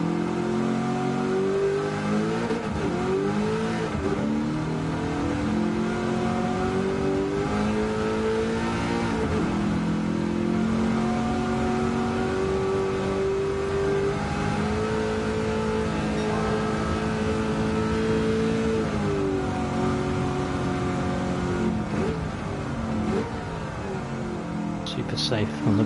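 A TCM Mustang race car in a racing video game, its engine droning loud and steady and rising and falling in pitch through gear changes and throttle lifts, with someone talking over it throughout.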